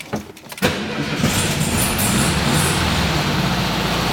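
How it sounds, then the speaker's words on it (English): A 1970 VW Beetle custom suicide-door coupe cranks briefly, then its engine catches and settles into a loud, steady idle, heard close with no talk over it. "Maybe we'll do a quick engine startup."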